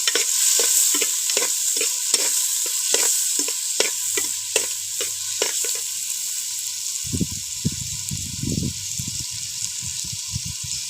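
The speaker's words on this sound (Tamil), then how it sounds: "நல்லா வதங்குற வரைக்கும் கிண்டிகிட்டு இருக்கணும்." Onions and tomatoes sauté in a hot pan with a steady loud sizzle, while a spatula scrapes in a quick, regular rhythm, then turns to thicker, wetter stirring near the end.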